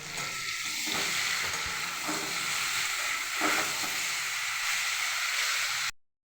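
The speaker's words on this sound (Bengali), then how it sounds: "আলু ভাজা হয়ে গেছে এবার একে একে নুন হলুদ মিষ্টি কাঁচা লঙ্কা রেটে রাখা মশলা দিয়ে দিলাম ভালো করে কষে নেব" Potatoes sizzling in hot oil with salt, turmeric, sugar, green chilli and ground spices while being stirred, a steady dense hiss with scraping stirs, close and alone until it cuts off.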